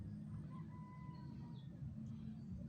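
A rooster crows faintly in the distance over a steady low hum of background noise, with no one speaking.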